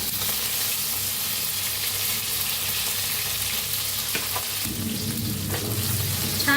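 Garlic and finely chopped tomato go into hot oil with mustard seeds in a pan, producing a loud continuous sizzle that swells further as more is added near the end.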